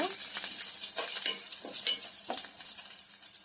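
Peeled garlic cloves and cumin seeds sizzle in hot oil, a steady close crackle with a few brief stirring scrapes, no voices.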